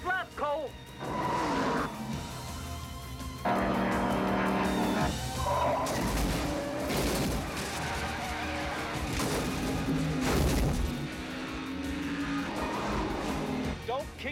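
Stock cars racing the final lap at Daytona, a dense continuous engine roar with rising and falling whines as cars pass, loud and steady throughout, under overlapping excited voices.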